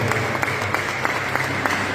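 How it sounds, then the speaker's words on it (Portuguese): Steady applause from a church congregation, dense clapping throughout, moderately loud and sustained. "Quiser dar um aplauso forte para ele, dá um aplauso para ele."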